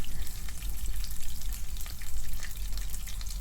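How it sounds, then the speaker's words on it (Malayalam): Masala with dried red chilies sautés in a pan for potato bhaji, giving a dense, close sizzling crackle with scattered popping spatters, steady throughout. "അപ്പോൾ ഇത് നല്ലപോലെ ഒന്ന് വഴറ്റിയെടുക്കാം കേട്ടോ"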